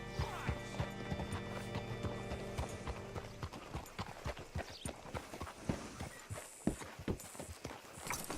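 A horse in the Red Dead Redemption 2 video game clops along on its hooves, the steps growing quicker and more distinct as it moves, and a whinny breaks through the steady hoofbeats.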